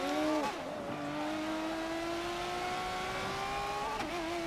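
A Lamborghini Aventador races in Forza Motorsport 7, its engine note holding a loud, steady high drone that dips briefly as it shifts, then climbs smoothly and dips again near the end, with no talking.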